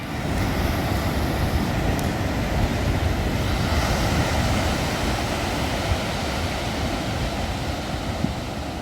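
Ocean waves wash against the shore at Santa Monica beach near the pier, a dense, steady broadband rush with no distinct breaks, close and fairly loud without any voices.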